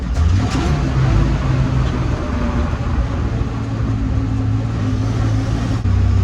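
A 1948 Dodge Power Wagon pickup truck drives along a bumpy dirt track, its old engine droning steadily at a low pitch with a loud, rough rumble and rattling from the cab for several seconds, no talking heard.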